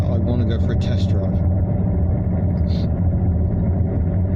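Vauxhall Omega out on a test drive after a pump seal repair, its steady low engine and road rumble filling the cabin continuously, with faint brief clicks near the start.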